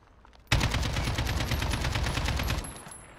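An AK rifle fires full-auto in a shooter video game, a sudden dense burst of rapid, evenly spaced shots held for about two seconds before cutting off and trailing into a short decay.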